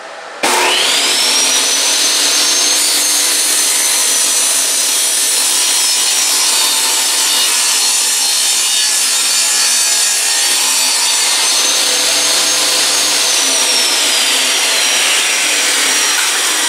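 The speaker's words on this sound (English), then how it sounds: "So we're going to cut this piece in 2." A power saw, its blade set just above the stock, cuts a wood scrap in two for a step stool build, a loud steady whine and rasp running unbroken for about sixteen seconds with no talk.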